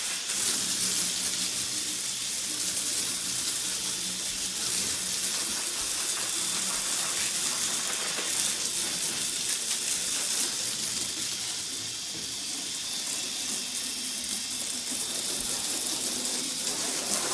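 A steady, broad hiss of water spraying as a dirty floor is washed down, continuous and fairly close, lasting throughout with no pauses or talk.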